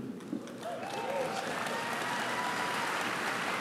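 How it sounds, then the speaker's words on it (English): Audience clapping at an outdoor amphitheater, faint at first and then swelling into steady, dense applause from a sizable crowd that holds to the end. "The people that clapped got it."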